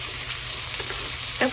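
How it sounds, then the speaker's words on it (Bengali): Mixed vegetables and peas sizzle and fry in a pan for vegetable fried rice while being stirred, a steady close crackle with a brief louder scrape near the end and no talking. "এগুলো সব রকম সবজিগুলো একটু ভালো করে এরকম করে মিশিয়ে নেব।"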